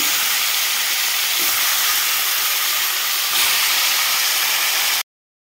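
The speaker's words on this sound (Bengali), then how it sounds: "বাকি মাছগুলো ভেজে নেব।" Katla fish fry in oil with a loud, even, broadband hiss that runs unbroken for about five seconds, swelling slightly partway through, then cuts off abruptly into silence.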